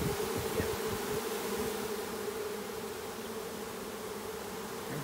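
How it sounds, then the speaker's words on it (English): Honeybees fanning at a swarm box, a dense, steady buzzing drone from many bees heard close and continuous, with no talk over it. "Well, they're all fanning in there."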